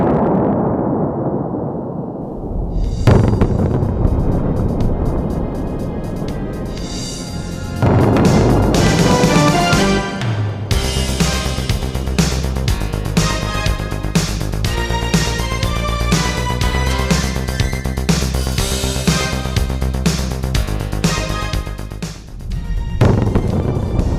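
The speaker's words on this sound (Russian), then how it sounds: "Сейчас в карьере производили взрывные работы по скрышным породам." A sudden booming quarry blast bursts in, then a second heavy surge follows, leading into a long, loud, sustained rumbling roar.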